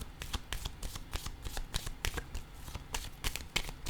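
Tarot cards being shuffled and laid down by hand, a rapid run of crisp papery riffles and flicks in quick irregular rhythm, close and fairly quiet, no voices.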